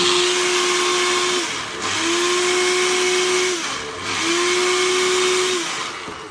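A small mini blender whirs steadily with a high motor whine, briefly dipping in pitch twice as if pulsed, close by and loud, no voices.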